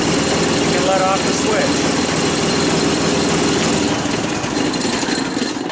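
A Deutz F3L292 three-cylinder air-cooled engine runs steadily and loudly close by, a continuous dense rumble with no pauses, while someone talks over it.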